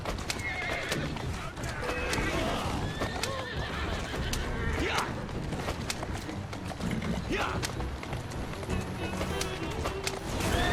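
A horse neighs and whinnies as its hooves clip-clop steadily on a road in the video game Assassin's Creed Syndicate, with the neigh ringing out clearly over continuous trotting and ambient street noise.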